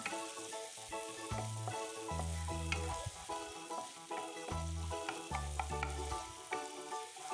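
Garlic and onion sizzle steadily in melted butter as they are stir-fried for Japanese curry, a constant frying hiss with occasional stirring under louder background music with a bass line.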